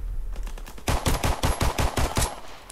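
Rapid bursts of gunfire from a Luger pistol in the World War II shooter game Call of Duty WWII, about eight loud sharp shots in quick even succession, close and alone.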